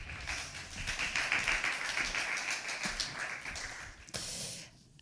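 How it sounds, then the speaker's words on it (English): An audience at a research conference panel in Berlin gives dense, continuous applause that holds steady for about four seconds, then breaks off abruptly into a short burst of noise before fading. "Welcome everybody with a nice and warm applause, please."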